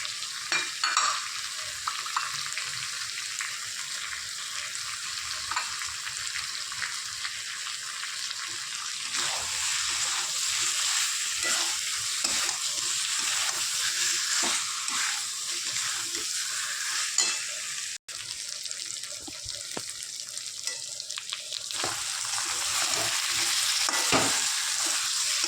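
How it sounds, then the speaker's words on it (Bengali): Potatoes and fried spices sauté in a hot pan, a steady bright sizzle running throughout with intermittent scraping and stirring strokes, close and fairly loud, with one sharp click partway through. "আলুটা দিয়ে 1 মিনিট কষাবো"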